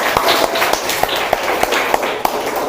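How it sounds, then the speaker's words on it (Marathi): A group claps for school quiz winners in a steady, rhythmic beat of loud, evenly spaced claps that repeats several times. "टाळ्या वाजवायच्या आहेत"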